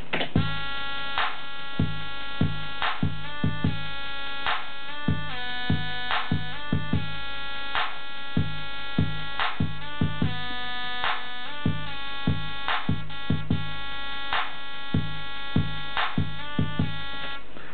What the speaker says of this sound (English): This is how the beat sounds like so far.